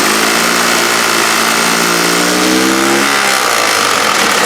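A 5.3 LS-swapped engine in a build-off car revs and holds near 3,600 RPM, a loud, close, sustained mechanical drone with a tone that rises slightly and eases, heard alone without speech.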